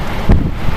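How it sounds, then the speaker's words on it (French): Strong wind gusts during storm Caetano in Clermont-Ferrand roar and buffet the microphone in a loud, low, rumbling rush that swells briefly in the middle of a short burst. "Plus petite tempête, mais plus grosse capacité de vent pour Clermont-Ferrand."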